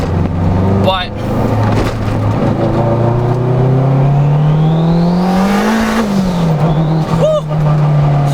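A boosted 400-horsepower Acura RSX (DC5) pulling hard in third gear, its engine note climbing steadily to a loud high whine, dipping at a shift and continuing, with excited voices over it.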